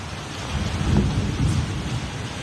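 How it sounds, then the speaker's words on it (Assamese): Steady rain falls with a dull, low rumble swelling briefly in the middle, a continuous wash of noise and no voices. "বৰষুণ দিছে কিন্তু ইমান জোৰেকৈ অহা নাই"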